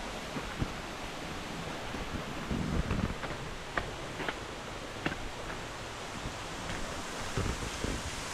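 Goa Raja waterfall in eastern Bali, Indonesia, pours as a constant broadband roar of falling water, dense and steady, with faint scattered clicks and no talking.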